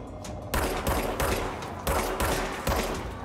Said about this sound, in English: I'm just shooting the wall